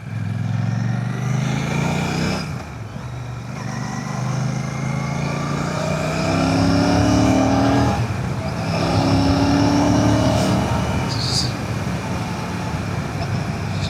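A Royal Enfield Classic 650 motorcycle roars steadily while being ridden, its loud, continuous engine note rising and falling through gear changes with heavy wind rush throughout.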